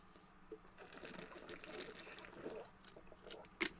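Quiet trickling of liquid being poured, ending with a brief clink near the end.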